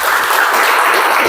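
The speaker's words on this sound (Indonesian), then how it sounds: "tepuk tangan untuk kita semuanya" A vocational agriculture school class in Karawang applauds itself at the end of a lesson, a short, loud, dense burst of clapping from many hands with no talk.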